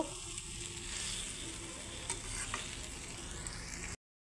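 Potatoes fry in a pan with soybean chunks, a steady broadband sizzle running throughout with faint scraping of stirring, close and moderately quiet, ending abruptly.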